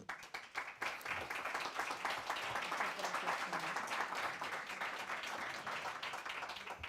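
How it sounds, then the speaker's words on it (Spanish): An audience at a Buddhist seminar claps in sustained, even applause that builds after a brief start and continues at a steady level. "agradecer la presencia del Lama Tony Karam, para quien pido un fuerte aplauso."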